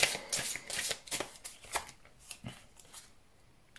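Tarot cards are shuffled and drawn by hand, giving a run of soft riffling and slapping card sounds that thin out into a few light taps, close and quiet.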